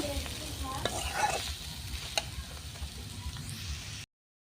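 Papaya stir-fries in a pan with a steady low sizzle of hot oil under repeated scraping and stirring strokes of a spatula, close and continuous until it cuts off abruptly.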